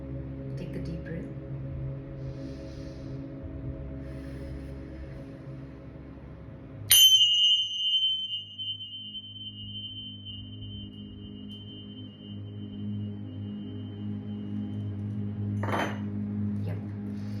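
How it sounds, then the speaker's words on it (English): A single bell strike rings out sharply to clear the energies, then a clear ringing tone sustains and slowly fades over several seconds above a low steady background hum. "let's clear the energies first with the bell"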